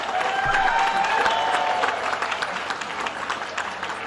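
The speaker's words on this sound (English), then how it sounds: "That's a bigger round of applause than that." A crowd at the Harvest East End wine event breaks into applause, loud mixed clapping and cheering that swells at first and then thins out.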